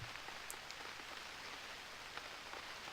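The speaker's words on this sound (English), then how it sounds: "The rain isn't helping." Rain falls in the Unreal World video game as a soft, even hiss of drops on surfaces, with a few faint ticks scattered through it.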